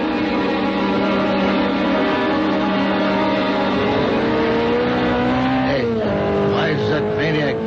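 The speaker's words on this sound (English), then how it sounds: "A sports car looked like a Simonetti. I couldn't tell. Went by me too fast." A sports car that looks like a Simonetti roars past at high speed in a 1975 radio drama scene, its loud engine whine holding steady and then dropping sharply in pitch as it goes by.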